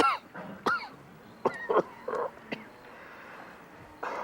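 A series of sharp, close coughs and throat clearing in short irregular bursts, with quiet pauses between them.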